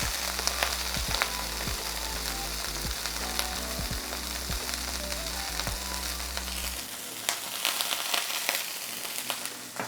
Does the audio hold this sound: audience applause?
no